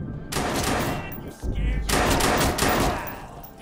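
Rapid bursts of gunshots from the Watch Dogs 2 open-world game, loud automatic-style volleys in two main clusters separated by a short gap, with a heavy low thump between them and voices talking over the firing.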